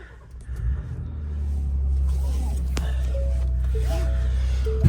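A Nissan S14 engine turns over and settles into a steady low idle rumble, close by, after some brief shuffling sounds.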